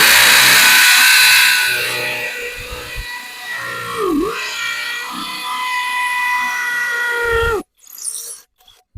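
A Grosser GCD 161KBT cordless drill driving a screw, a loud whining motor held steady with pitch dipping under load, then cutting off abruptly near the end with a brief clatter after.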